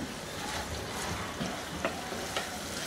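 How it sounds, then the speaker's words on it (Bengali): Hyderabadi chicken stir-fried with coriander leaves in a pan, a steady close sizzle with scraping spatula strokes every second or so, no voices. "আর একটু ধনিয়া পাতা দিয়ে এখন এটার সাথে নেড়ে চেড়ে আরো 2-3 মিনিট ভেজে নিব"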